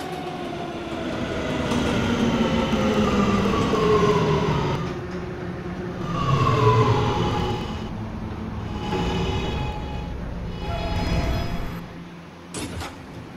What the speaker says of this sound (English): This is a Catlin-bound R local train.